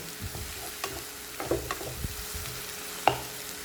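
Onions are stirred in a pan while cooking for black-meat Kadaknath chicken curry: a low sizzle with scattered light scrapes and one sharper clack of the spoon against the pan.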